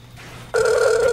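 An unanswered telephone call rings with a loud, steady electronic tone that starts abruptly after a quiet moment and continues without pause.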